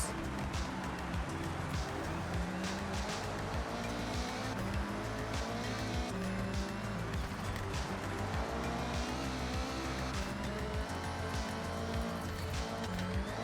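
A car in the Forza Horizon 6 racing game drifts off-road. Its engine roars loud and unbroken throughout, with a continuous scrubbing hiss layered above.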